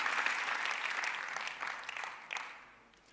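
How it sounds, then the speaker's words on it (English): An audience claps together in a dense burst of applause that stays fairly even, then thins out and fades toward the end. "Give her a big applaud, everyone"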